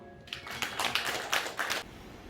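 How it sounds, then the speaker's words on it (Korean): A church congregation at a Sunday service claps in a short, regular rhythm of about seven distinct claps, moderately loud, followed by a brief quiet tail. "주님께 영광의 박수 올려드립니다."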